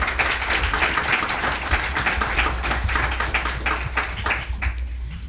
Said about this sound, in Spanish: para quienes pido de inicio un fuerte aplauso